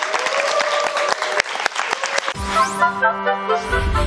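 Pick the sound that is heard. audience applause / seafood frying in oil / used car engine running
audience applause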